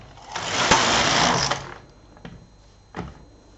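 A knitting machine carriage slides across a row of needles in one smooth, close whirring pass lasting about a second and a half, followed by two soft clicks.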